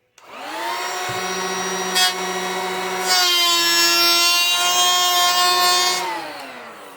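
A Ryobi cordless handheld planer runs continuously, shaving polyurethane finish off wood. Its steady, loud motor whine carries a low hum and bright harmonics, and its tone shifts as the blade bites, then the motor winds down at the end.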